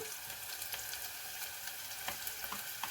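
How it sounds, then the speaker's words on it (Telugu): Ginger garlic paste sizzles steadily in hot oil with browned onions for a chicken and broad bean curry, a close, even frying hiss with a few faint stirring clicks and no talking. "ఇప్పుడైతే నేను అల్లం వెల్లుల్లి పేస్ట్ వేస్తున్నాను"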